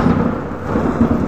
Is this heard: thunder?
yes